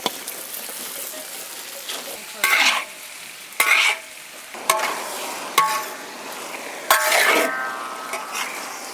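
Chopped chili peppers stir-fry in oil in a wok with garlic, ginger and salt. Loud spatula scrapes and tosses come in irregular bursts over a constant hiss of frying.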